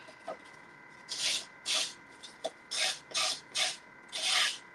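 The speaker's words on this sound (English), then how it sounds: "You can take a nail file, or if you have a sanding block, you can just smooth this out." Several short, raspy strokes of a nail file rubbing along a paper edge, in quick bursts with brief pauses between them, close and fairly quiet.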